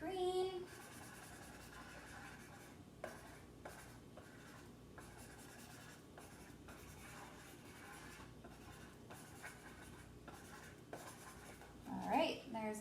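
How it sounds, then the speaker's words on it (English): A marker coloring in a section of a paper plate with green: rapid, soft scratchy back-and-forth strokes repeating for several seconds, faint and close, with brief talk at the start and end. "And I'll color that in with green."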